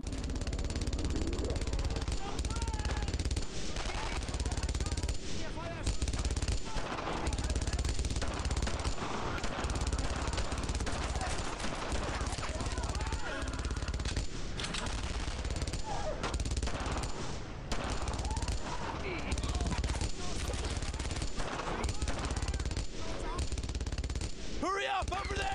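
Machine gun fire in the WWII shooter Brothers in Arms: Earned in Blood, with repeated bursts and scattered rifle shots rattling almost continuously, loud and dense, under occasional talk.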